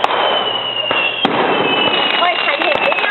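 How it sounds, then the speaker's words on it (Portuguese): Fireworks at a display in Ipu, Itapajé, crackle and pop in sharp bursts over a loud, dense background, with people talking and exclaiming over them. "Chama de fogos, ó."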